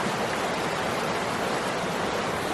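A washed-out river on the Pacific Crest Trail rushes past in a steady, dense roar of flowing water, close and continuous with no voices.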